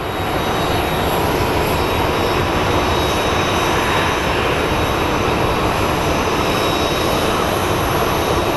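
Boeing 737 MAX jet airliner at Phoenix Sky Harbor airport, a loud, steady broadband engine roar that holds close and constant throughout with no voices.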